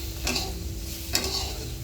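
Egg bhurji stirred and broken up in a pan over low heat, a low steady sizzle with two quick scraping strokes of the spatula.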